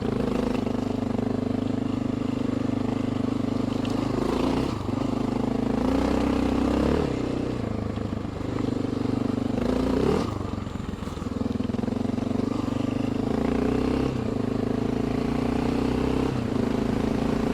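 Honda XR650L motorcycle riding on Kenda K270 tyres, a steady mid-pitched single-cylinder engine drone with rising and falling throttle surges and periodic gear-change dips, heard close and continuous.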